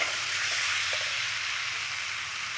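Spiced new potatoes frying in a pan (kadai) are stirred, a steady close sizzle running throughout with faint scraping beneath and no talk.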